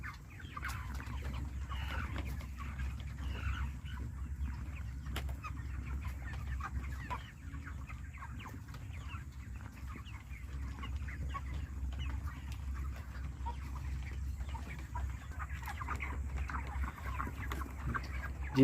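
A flock of 39-day-old broiler chickens clucks steadily at a poultry farm in an open village setting. The chatter is continuous and moderately loud over a low hum, with no talking.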